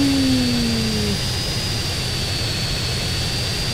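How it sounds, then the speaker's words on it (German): A small jet aircraft's engine roars steadily and loudly in the game GTA San Andreas, with a falling whine at the start and a constant high-pitched hum over the continuous rumble. "Und das ist nun mal unser kleiner Jet hier."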